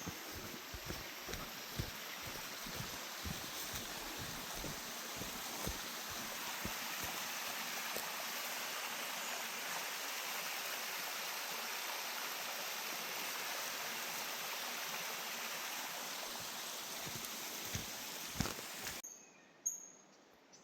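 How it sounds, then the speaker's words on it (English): A small feeder creek runs downstream in a steady close rush of water, with light knocks and thumps early on before the sound cuts off near the end. "Just following this beautiful feeder creek downstream."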